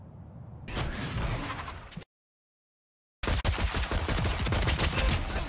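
Rapid gunfire bursts in the video game Valorant, loud and dense, broken by a sudden gap of silence before a second sustained volley.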